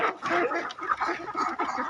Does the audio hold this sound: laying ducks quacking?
yes